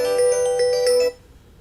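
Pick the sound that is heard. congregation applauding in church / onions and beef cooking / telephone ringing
telephone ringing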